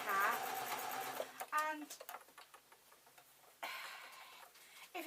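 A domestic sewing machine stitches a fabric circle onto a straight edge for a desk tidy, with a quick whirring run, then slow ticking stitches and a final burst, close up, while someone talks over it.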